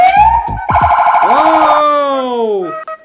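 A toy police siren blares loud and close with electronic wailing, warbling tones that sweep up and down for nearly three seconds, then cut off.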